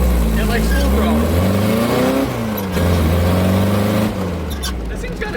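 A 1968 Baja Bug engine revs hard at full throttle, loud and close, its pitch climbing in repeated pulls with a rough, buzzy growl that stays steady throughout.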